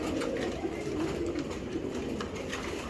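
Racing pigeons coo in a low, continuous murmur over a constant hiss of background noise, close and moderately loud, with no voices.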